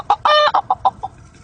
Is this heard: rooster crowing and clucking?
yes